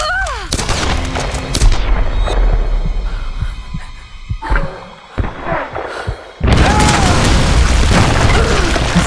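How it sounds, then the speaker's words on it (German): Heavy booming blasts from a grenade launcher in the Tomb Raider game, with loud low thuds and rumbling bursts spread across the clip and a sustained roar of explosions toward the end. "Granatenwerfer wahrscheinlich, oder?"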